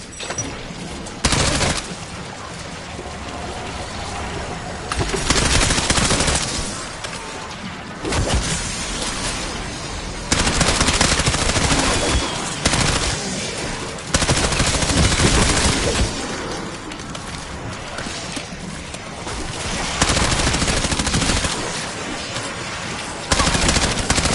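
Video game gunfire rattles in heavy, dense bursts of automatic shooting, loud and nearly continuous, with brief lulls between volleys.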